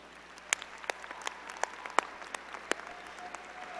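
Sparse, scattered clapping from a commencement audience at a university business school graduation, a few distinct individual claps standing out over a quiet hall, fairly faint.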